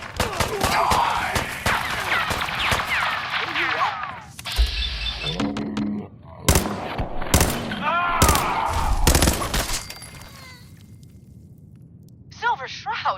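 Gunfire in Fallout 4: sharp, loud shots in bursts scattered across the clip, separated by gaps, with game voices and effects between them.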